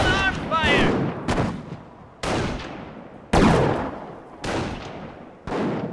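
Artillery fires in Company of Heroes as Panzer Elite battles British forces, five or six heavy booming shots that each land sharply and then roll off into long decaying rumbles, with brief voice lines mixed in.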